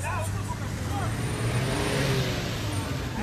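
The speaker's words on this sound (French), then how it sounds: "Ça, c'est le véhicule de maman Marc qui sort." A car pulls out and drives away, its mid-pitched engine humming and rising slightly under ambient crowd noise with faint voices in the background.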